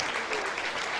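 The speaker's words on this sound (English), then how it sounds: "let's have a round of applause for the parents" A short burst of crowd applause for the parents at the 2013 Space Coast Sports Hall of Fame ceremony, dense, even clapping throughout.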